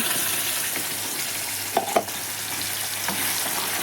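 Spice masala paste fries in a little hot oil with asafoetida for a mushroom gravy, making a continuous loud sizzle with a couple of brief stirring knocks in the middle.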